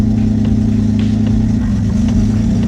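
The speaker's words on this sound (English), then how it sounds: "now it seems like it's idling a little bit high" A car engine idles a little high, holding a steady low rumble with a slight mechanical hum, close and loud throughout with no voices.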